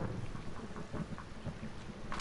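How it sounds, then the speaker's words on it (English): Rain and rolling thunder from a storm in the video game Firewatch, a faint steady downpour with low rumbles swelling and fading in the distance. "Hey, I heard some thunder."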